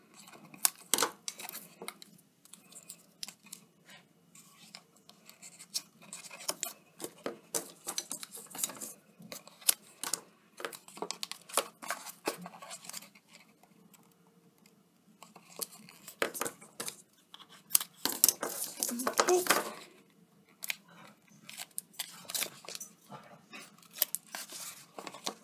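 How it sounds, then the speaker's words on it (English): Strips of tape pulled, torn and pressed along three edges of a cardboard chocolate treat box lid, giving repeated close crackly rips and dabs of handling noise with a louder burst of tearing near the end. "I'm just going to pop a piece of tape on each of these three edges"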